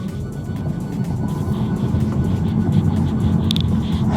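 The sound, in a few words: Tesla Model 3 Performance accelerating in test run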